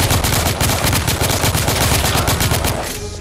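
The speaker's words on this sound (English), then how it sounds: "finally got an assault rifle" Assault rifle fire in the video game The Order: 1886, rapid automatic bursts of close, loud shots in a steady stream that fade slightly at the end.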